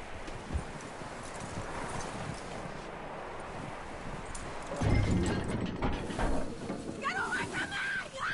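Horse hooves clip-clopping in the Red Dead Redemption 2 video game, a steady rhythmic gait with creaking tack and light wind, growing louder and closer partway through, with faint talk in the background.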